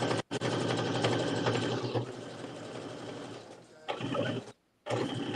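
A sewing machine runs in steady whirring, rattling stitches while basting a sleeve together, with brief pauses between runs and a short stop near the end before it starts again.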